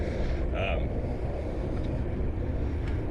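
North wind buffets the microphone outdoors beside a trail with trees, a constant loud low rumble with gusty roar throughout.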